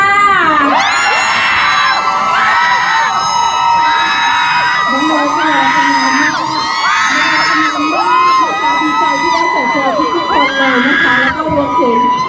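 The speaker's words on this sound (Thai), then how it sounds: "สักครั้งได้ไหมคะขอเสียงกรี๊ดได้ค่ะ" A crowd at a shopping mall event screams loudly in long, high-pitched cries that rise and fall, many voices overlapping and carrying on throughout.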